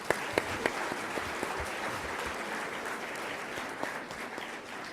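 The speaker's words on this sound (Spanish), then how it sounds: "Recibamos con un aplauso a los participantes." Applause from an audience at a book presentation, a soft, even wash of many hands clapping with a few distinct claps near the start, fairly distant and steady throughout.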